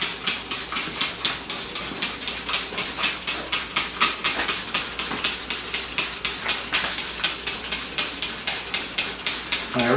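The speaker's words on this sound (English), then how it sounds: "get it all sprayed and soaked" Pump sprayer spritzing water in rapid repeated bursts to soak model railroad layout scenery laid over plaster cloth, a steady pulsing hiss close up with no talking.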